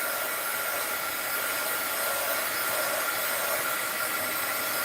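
A hair dryer blows close and loud to dry paint on a craft Christmas tree, giving a steady, unbroken airy roar with no talking.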